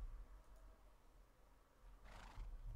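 A horse in Minecraft whinnies once, a short bright neigh rising out of a quiet low rumble, fairly close and distinct.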